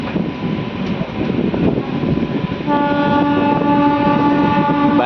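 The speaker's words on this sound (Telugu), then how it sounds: "చెర్లపల్లి నుంచి మన ట్రైన్ బయలుదేరింది." Departing Cherlapalli station, a DEMU train sounds a sustained horn over its steady engine and wheel rumble, the horn holding for several seconds without speech.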